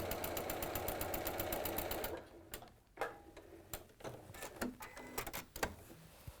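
A sewing machine runs in a fast, steady burst of rapid stitching for about two seconds, then quieter handling clicks and small taps follow as the fabric is adjusted.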